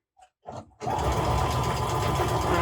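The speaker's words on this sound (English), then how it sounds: "My machine is struggling a little bit to go through this much fabric." A sewing machine stitching a quarter inch seam through thick layers of fabric, starting after a few faint clicks and then running loud and steady, close up.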